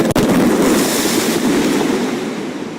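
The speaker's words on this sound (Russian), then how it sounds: "Ну вы видали, какой фейерверк, да?" A loud, dense crackle of New Year fireworks over Yakutsk fills the air continuously, with a sharp pop at the start and a rumbling wash that slowly fades.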